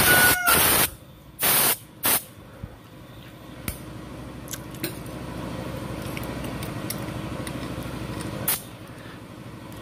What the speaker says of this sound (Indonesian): selanjutnya kita semprot pakai angin ya, pakai angin kompresor supaya cepat kering